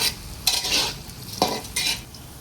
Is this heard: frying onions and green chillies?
yes